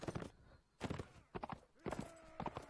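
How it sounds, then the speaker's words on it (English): Horse hooves gallop in the medieval combat game Mount & Blade Warband, a faint, rapid clip-clop in irregular bursts with a brief whinny-like tone partway through. "I can run him over with my horse."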